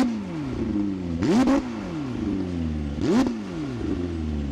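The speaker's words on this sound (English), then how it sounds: "You also have this new exhaust system, which is insanely short." A McLaren 750S Spider's short exhaust idles with a deep burble, then revs sharply twice, each blip rising and falling quickly; loud and close, no talking.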